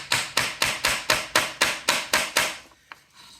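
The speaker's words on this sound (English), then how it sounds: "I will do this and just nail down" Steady hammer blows driving nails while making turkey-shaped earrings, about ten sharp, loud, evenly spaced strikes close up, then a single lighter tap after a pause.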